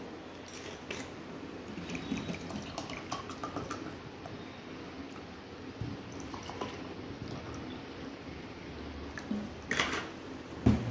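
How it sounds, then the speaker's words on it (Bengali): Water goes into a gondhoraj lemon ghol drink, with soft pouring, dripping and squishing liquid sounds close by, at low level and with small irregular splashes throughout. "জলটাও মাপ অনুযায়ী দেবেন, বেশি জল দিলে তো বাজে লাগে।"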